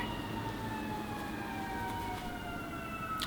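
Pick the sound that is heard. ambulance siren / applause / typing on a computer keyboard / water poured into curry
ambulance siren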